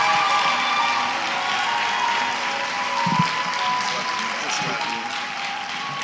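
A church congregation applauds steadily and loudly throughout a ceremony, with the dense clapping holding at a constant level from start to finish and no clear voices rising above it.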